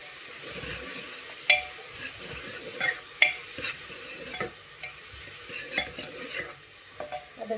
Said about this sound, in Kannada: ಅದ್ರ ಜೊತೆನಲ್ಲಿ ಹಸಿಮೆಣ್ಸಿನ್ಕಾಯಿ ಹಾಕ್ಕೊಂಬಿಡೋಣ, ಫ್ರೈ ಮಾಡೋಣ.